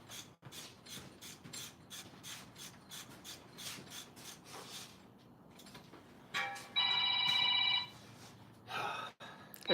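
A phone ring sounds for about a second and a half, loud and electronic, following a stretch of rhythmic rasping or rubbing on wood in a workshop.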